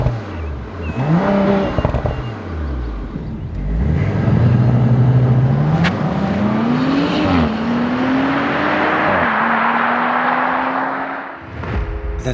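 A 2027 B10 Audi RS5 with a 2.9-liter twin-turbo V6 and electric motor drives hard on an Alpine road, its engine rising and falling through gear changes, loud and close, with a steady climbing drone and brief lift-offs.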